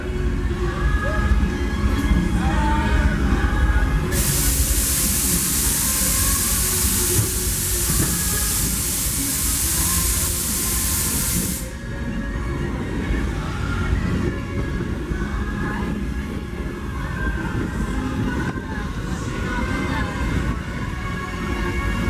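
Steam train on the Disneyland Railroad, heard from aboard the ride: continuous rolling rumble with a loud burst of steam hissing midway, then steady running noise.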